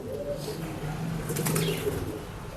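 Pigeons sold at a pet shop in Bangalore, with a brief flurry of wing flapping around the middle over a low, steady background hum.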